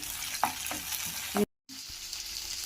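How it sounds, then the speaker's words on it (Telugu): Onion, tomato and green chili frying in a pan for pasta, a steady sizzle broken by a few stirring scrapes and a short gap of silence partway through. "సన్నగా కట్ చేసినటువంటి టమోటా ముక్కలు పచ్చిమిర్చి ఒక మూడు కట్ చేసుకున్నది ఇందులో చేసి ఇలా ఫ్రై చేసుకోవాలి"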